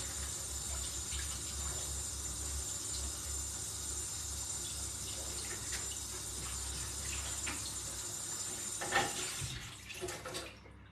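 Tap water runs steadily while a cake mould is rinsed in a kitchen sink, a faint continuous wash with a few splashes near the end before it cuts off, no voices.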